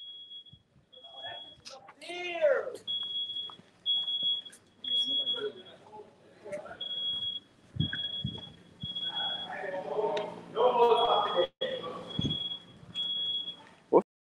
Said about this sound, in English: where's that alarm